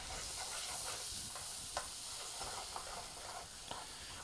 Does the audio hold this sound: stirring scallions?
yes